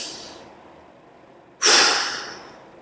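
A person takes deep breaths: a fading exhale at first, a pause, then a sudden loud, close sharp inhale or snort that slowly tapers off, with no talking.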